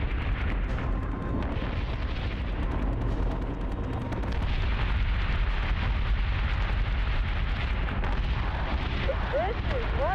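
Starship batteries in Battlestar Galactica: Deadlock fire nonstop in a dense barrage of booming blasts and rumbling explosions. Loud, layered and continuous, with a short whining sweep near the end.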